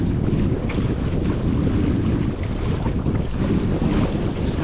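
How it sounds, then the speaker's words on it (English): Strong 13-knot wind rushing across the microphone aboard a sailboat, a steady broadband roar with water noise beneath it that stays loud and unbroken throughout. "the wind is strong. I mean, it's 13 knots of breeze"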